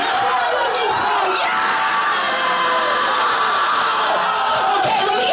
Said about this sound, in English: I think we need more screaming behind me.